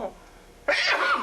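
A person gives a single sharp, loud sneeze up close, a short burst that falls away after about half a second, following a brief moment of quiet.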